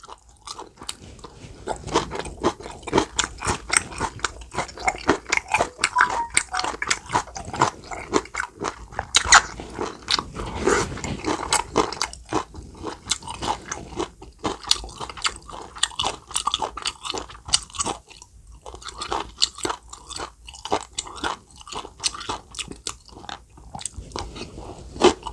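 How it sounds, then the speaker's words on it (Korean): Crunchy, chewy bites of crispy pork belly skin, close and loud, with steady repeated crackling chews and moist squishes and no talking. "껍데기가 굉장히 쫄깃쫄깃하네요"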